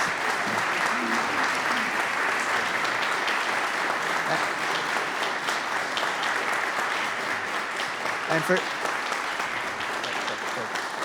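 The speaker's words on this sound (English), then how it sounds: "Let's give another round of applause." An audience applauds after a holiday concert program at a history museum, steady dense clapping sustained throughout with a few brief louder claps, no speech over it.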